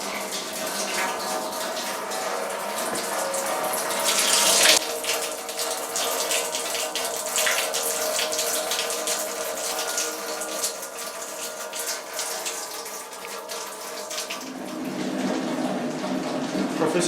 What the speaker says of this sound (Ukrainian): Включаємо воду, напускаємо воду у ємність.